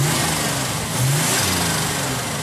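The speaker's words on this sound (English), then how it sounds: "Lurking under that hood is the standard turbo V6 engine." A Buick GNX's turbocharged V6, fitted with a Garrett T3 turbo with a ceramic turbine wheel, runs loud and close with a steady, throaty rev that swells slightly about a second in.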